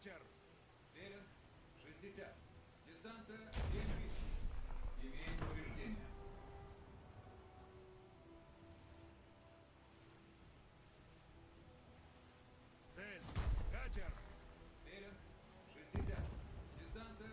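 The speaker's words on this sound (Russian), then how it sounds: "вот он начал стрелять по мне" Naval gunfire and shell impacts in the War Thunder game, several loud sharp booms in two bursts, near 4–6 s and 13–16 s, standing out over a quieter game background with someone talking at times.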